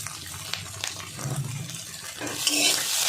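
An egg fries in a pan with coriander leaves, giving a soft sizzle under stirring scrapes that swells into a brighter hiss toward the end.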